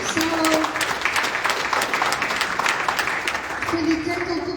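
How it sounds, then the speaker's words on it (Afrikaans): A church congregation applauds, with sharp individual handclaps spread across a steady clapping crowd, while faint tones or voices sit underneath. "Julle gee hande klap vir jouself."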